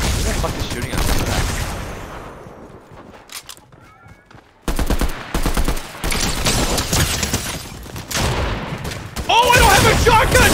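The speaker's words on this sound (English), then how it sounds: "Who the fuck is shooting at me?" Dense video game gunfire in Battlefield 2042 or Fortnite: loud bursts and rapid automatic shots, a brief lull, then renewed heavy firing, with speech mixed in.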